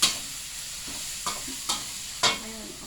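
Garlic sizzles steadily in a modest amount of hot oil, with a spoon or spatula stirring and scraping the pan in several distinct strokes over the continuous frying hiss.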